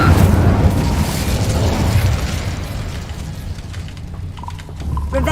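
A fire spell cast in Hogwarts Legacy: a loud, dense fiery burst and roar that stays full and rumbling throughout, with crackling bursts scattered over the top.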